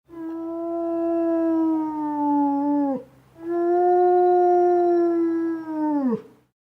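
A wolf gives two long, loud, clear howls, each holding a steady pitch and then dropping off at the end, separated by a short pause and heard alone at close range.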